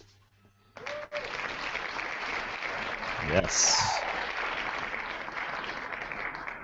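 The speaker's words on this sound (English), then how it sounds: "Is the applause going to be that long every time?" Applause sound effect dropped into a podcast episode, a burst of clapping starting about a second in and continuing steadily to the end, with people talking over it throughout.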